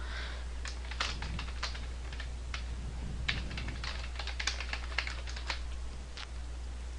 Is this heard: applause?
no